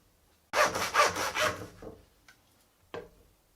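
A knife trims a rack of lamb, several quick close rasping cuts in a burst followed by a fainter slice and then one final short stroke, in a quiet room with no talk.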